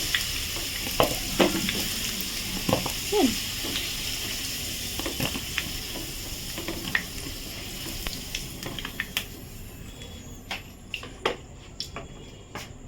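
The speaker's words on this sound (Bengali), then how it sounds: "আলুগুলো ভাজা হয়ে গেছে" Potato pieces sizzle steadily in hot oil, with scattered spoon scrapes and stirring clicks over the continuous crackle. Sharper taps grow more frequent near the end as the fried potatoes are lifted out.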